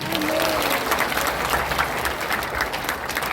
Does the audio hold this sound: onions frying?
no